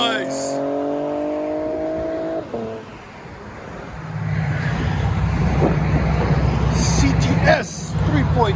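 A Cadillac CTS 3.6 liter V6 coupe's exhaust revs up and holds a deep, loud drone after a brief pause, with people talking nearby at the start.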